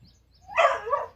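A bloodhound, one of two sister dogs, lets out a short, fairly close bark or yelping burst that swells and falls within about a second, with no talk over it.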